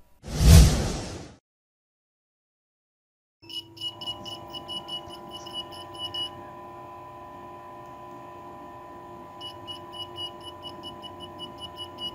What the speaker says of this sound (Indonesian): buzzernya sedikit tidak stabil karena baterainya ini sedikit soak di 7 volt